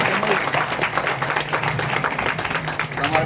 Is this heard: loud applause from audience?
yes